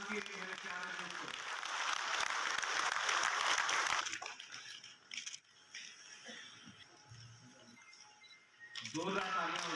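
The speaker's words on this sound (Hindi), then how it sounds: "जोरदार तालियां हो जाए।" Applause from an audience at a public event in Jammu and Kashmir, a loud wash of clapping for about four seconds that breaks off into quieter room noise, with another swell of clapping at the end.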